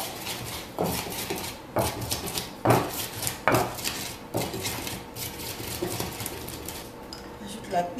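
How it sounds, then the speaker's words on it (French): Onions, api and gnagnan are crushed with a kitchen tool for n'tro sauce, giving repeated scraping and knocking strikes in an uneven rhythm, close and fairly loud, with faint talk in the background. "je vais écraser mes oignons, mon api et mon gnagnan"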